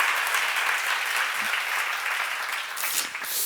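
Church congregation at a seminar clapping together in sustained, dense applause that fills the room, tapering slightly near the end.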